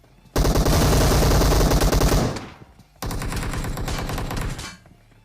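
Automatic gunfire in the Free Fire mobile battle game: a loud, dense burst of rapid shots lasting about two seconds fades out, then after a short pause a second sustained burst follows, with no talking.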